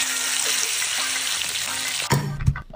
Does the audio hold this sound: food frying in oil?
yes